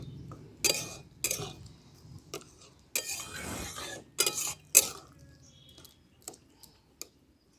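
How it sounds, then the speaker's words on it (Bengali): Poppy seed paste being mixed in a bowl, heard as scattered scrapes and clinks of a spoon against the bowl that come in short bursts with quiet gaps, close and moderately soft. "সব একসঙ্গে ভালো করে পোস্তটাকে মিশিয়ে নিচ্ছি।"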